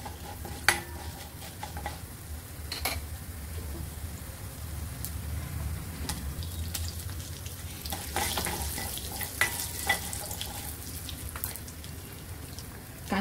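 Urad dal frying in hot oil with mustard seeds and cumin gives a continuous close crackle and sizzle, with scattered pops and scraping stirs.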